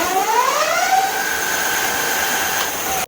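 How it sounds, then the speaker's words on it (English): An Engwe EP-2 e-bike's rear hub motor spins up at its highest assist level, a loud steady electric whine that rises in pitch over the first second, then holds constant until it cuts off abruptly at the end. "let's turn it right up to the highest and see how fast the back wheel spins"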